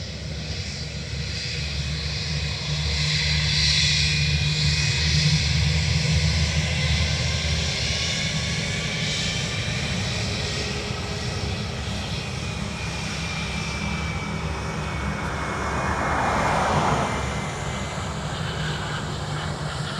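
Aircraft EI-XLT, newly repaired after landing gear damage, takes off from Dublin Airport bound for Washington, its engines a steady, fairly distant roar that swells slightly over twenty seconds.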